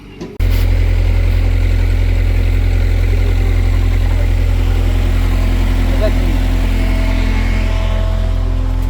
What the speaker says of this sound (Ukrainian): зараз тракторець візьме цю пересуне